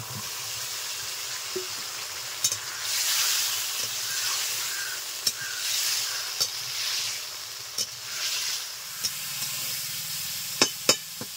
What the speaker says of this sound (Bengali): আলু দেওয়ার পর কিছু সময় নেড়ে চেড়ে নিয়েছি, কড়াইটা একটু লেগে লেগে আসছে।